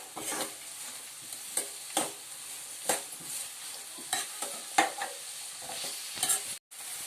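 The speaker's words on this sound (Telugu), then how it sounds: "ఉల్లిపాయలు అయితే బాగా ఫ్రై అయిపోయింది." Onions and green chillies fry in a pan as a spoon stirs them, with repeated scraping strokes about every second over a soft, continuous sizzle and a brief dropout near the end.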